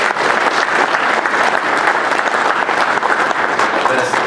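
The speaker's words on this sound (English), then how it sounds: "Bill and his wife Laura, give them a round of applause, please." A crowd at a baseball hall of fame induction ceremony applauds steadily, dense clapping filling the whole stretch at a constant loud level without pause.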